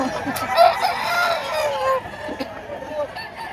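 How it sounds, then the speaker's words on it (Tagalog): A rooster crows in a drawn-out call at a chicken market in Lipa, Batangas, with faint background chatter and other birds around it. "Ano po kaya lahi nito ng manok na ito?"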